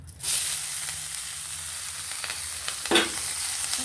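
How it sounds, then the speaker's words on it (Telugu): Ponnaganti greens fry in a pan, starting with a sudden hiss as they go in, then a steady sizzle with stirring scrapes and a louder burst near the end. No one talks. "ఇప్పుడు పొన్నగంటి కూర ఫ్రై చేస్తాను."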